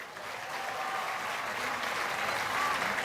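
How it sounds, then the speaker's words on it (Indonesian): A crowd at an Indonesian public event about rebuilding the Al-Khoziny pesantren applauds to thank the Ministry of Public Works. The clapping is sustained and even, and grows slightly louder toward the end. "terima kasih, tepuk tangan untuk Kementerian PU."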